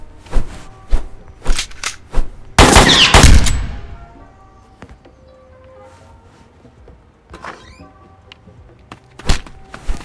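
Gunfire in a video game store robbery: several loud close shots, a dense rapid burst in the middle, then scattered single pops and thuds trailing off, with no talk over them.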